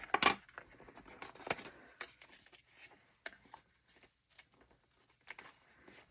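Scissors snip paper for a papercraft Dutch door card, a series of crisp cuts at irregular intervals, near and fairly quiet, with light rustling of paper between snips.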